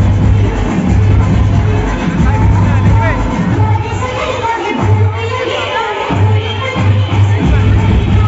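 Dense festival crowd at the Dahi Handi celebration in Pune, a steady loud hubbub of many voices close around, with a rhythmic low drumbeat pulsing through most of it and brief dips near the middle; light rain falling.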